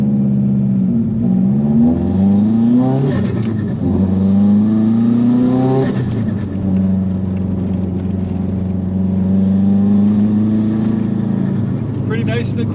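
A 2005 Subaru Impreza WRX STi sedan drives uphill on a bumpy road, its engine droning steadily with rising and falling revs through gear changes, loud and close throughout.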